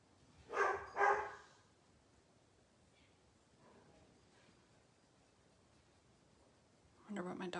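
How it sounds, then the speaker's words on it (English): A dog barks twice in quick succession somewhere in the house, fairly distant and sharp, then quiet room tone follows before a brief burst of nearby noise at the end. "Wonder what my dog's barking at."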